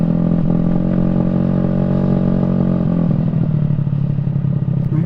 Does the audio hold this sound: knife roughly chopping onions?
no